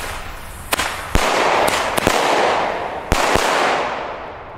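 Lidl consumer fireworks bursting outdoors: a string of sharp cracks and bangs, about six distinct reports at irregular intervals over a steady hissing crackle and rumble that slowly fades.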